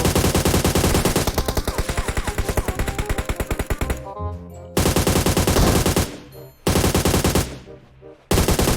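Rapid automatic gunfire in PUBG Mobile bursts loudly and continuously, broken by a few short pauses before firing resumes, with a punchy, game-like sound.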